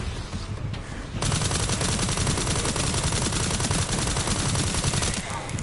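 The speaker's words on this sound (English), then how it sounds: "We will definitely go full mag on the blister head." A full magazine fired at a blister head in Resident Evil 9 Requiem, a loud, continuous rapid burst of gunfire after a short lead-in, close and relentless until trailing off at the end.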